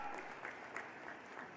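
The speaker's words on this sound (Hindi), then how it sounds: "श्रीमान तुलसीराम सिलावट जी, ताली वाली बजा करके जरा अभिनंदन करें मेहमानों का।" An audience at a political gathering in Gwalior claps in a steady, fairly faint round of applause that carries on throughout without stopping.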